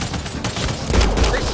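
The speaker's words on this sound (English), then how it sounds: "They shot him!" Gunfire in Mass Effect: Andromeda, a dense, noisy spread of shots and combat sound that swells into a heavier low rumble partway through, loud and close.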